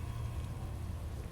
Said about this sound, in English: It's raining on this map